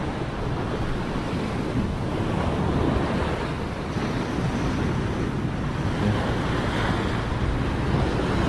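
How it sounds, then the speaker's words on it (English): Surf crashes and churns at a New Jersey beach during rough conditions, a dense, continuous roar of breaking waves mixed with wind noise across the microphone, loud and steady with no voices. "Look at all of this water right here. Just moving hard."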